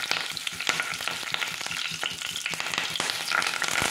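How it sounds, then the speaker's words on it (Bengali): Onion and curry leaves fry lightly in hot oil in a wok, a continuous close sizzle broken by quick crackles and the scrape of stirring. "একটু ভেজে নেব হালকা করে।"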